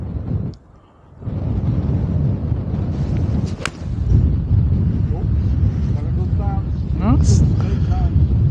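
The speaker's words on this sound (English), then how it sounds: "I'll hit a 7-iron, which usually flies around 165 without any wind." A 7-iron strikes a golf ball on a windy links course, one sharp crack partway through, heavily masked by steady roaring wind noise on the microphone.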